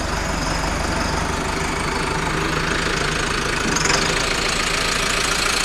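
A tractor engine idling close by in a farm field, a loud steady low chugging rumble with a dense rhythmic knock that holds constant throughout, no speech over it.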